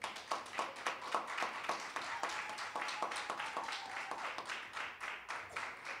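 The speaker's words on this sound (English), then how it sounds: "You can give a round of applause for that." Scattered clapping from an audience at a church lecture series event, individual claps distinct and uneven, moderately quiet, with some voices in the background.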